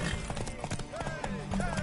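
Horse hooves clip-clop and a brief whinny sound in The Witcher 3, close and fairly quiet beneath a steady game soundscape, with a voice talking over parts of it.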